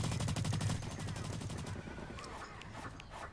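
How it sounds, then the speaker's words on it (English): Rapid automatic assault rifle fire in the shooter game Blacklight Retribution, dense rhythmic bursts at the start that give way to scattered shots and game noise. "Assault rifle, I guess."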